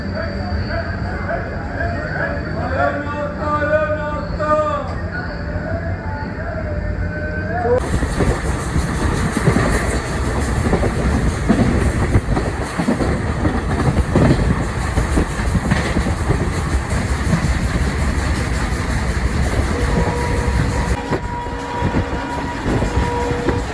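A train rumbles along the rails with a loud, steady roar and rhythmic clatter, after a brief stretch of nearby voices and engine hum.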